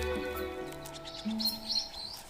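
Parrots call while feeding on nectar from flowers, giving a few sharp chirps and tweets over a steady outdoor background with several overlapping bird voices.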